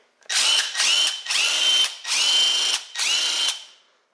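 A cordless high-torque impact wrench, Harbor Freight Earthquake XT or Milwaukee, runs in five close, loud bursts of rising motor whir, each about half a second to a second long, with brief gaps between.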